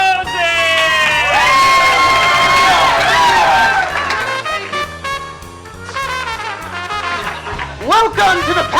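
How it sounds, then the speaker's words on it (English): A studio audience at a comedy game-show taping cheers loudly, with high whoops and shouting voices over dense crowd noise that dips and then surges again near the end. "Applause! Applause! Applause!"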